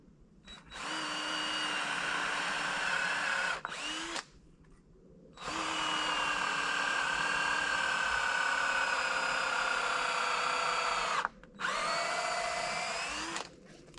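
A power drill drives screws into a wooden bushcraft shelter frame in several long, steady whirring bursts separated by short pauses, close and loud, with no talking.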